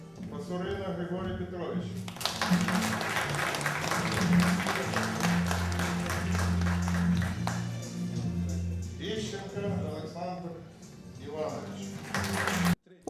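Council members at a session applaud their colleagues as new deputies receive their credentials; sustained, crowded clapping swells in after a short pause and runs on at a steady level, with talk over it before it fades near the end.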